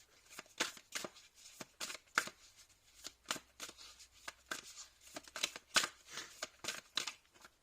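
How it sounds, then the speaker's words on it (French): Tarot cards being shuffled and drawn by hand, a quick, close run of crisp riffling and slapping card sounds in an irregular rhythm, with no talking. "vous allez prendre une troisième carte"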